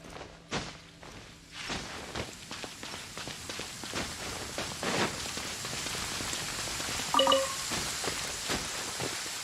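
Rain in the video game Genshin Impact, a steady patter on surfaces mixed with footsteps and small thuds, fairly quiet, with a brief character vocal sound near the end.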